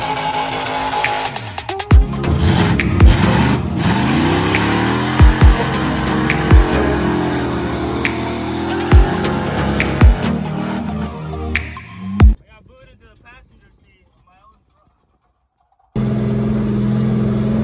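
A mud truck's engine roars and revs hard at the Plant Bamboo Battle Bogs 2021 event, with repeated loud throttle blips over a constant rumble. It cuts out briefly near the end before returning at full volume.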